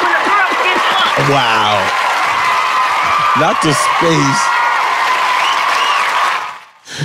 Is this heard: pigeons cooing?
no